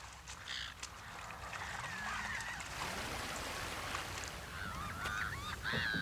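Geese and other waterfowl on a Greek lake call out in a run of honks and squawks, some close and some farther off, over a steady background of outdoor noise with no one talking.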